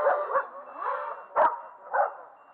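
A small dog gives a few short yips and barks, close and fairly quiet, with whimpering between them.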